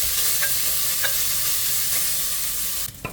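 Ginger garlic paste and cashews sautéing in a pan, with a steady soft sizzle, a few light stirring scrapes, and the noise cutting off near the end.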